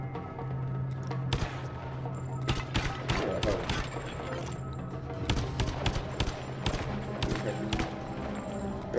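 Rapid bursts of pistol fire ring out in Lara Croft and the Temple of Osiris, sharp close shots in uneven clusters over a bed of game music and effects, with people talking throughout.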